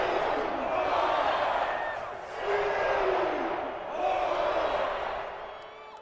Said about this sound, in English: Crowd is on here in this first half.